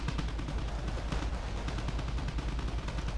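Artillery and gunfire from the war strategy game Wargame: Red Dragon, set in a jungle battle, rattle as a dense, continuous barrage of rapid thumping shots, steady and fairly loud throughout.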